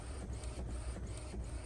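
An Epson EcoTank printer prints a page, its steady mechanical whir broken by regular pulses from the print head sweeping back and forth, fairly quiet and close.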